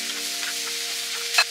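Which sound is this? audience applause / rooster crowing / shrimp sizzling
shrimp sizzling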